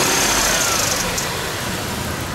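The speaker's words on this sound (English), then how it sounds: "Idles, engine's idling." A Ford F150 4.6L V8 engine idles with a steady, dense rumble and hiss, loud and close, plus a faint high serpentine belt squeal near the start.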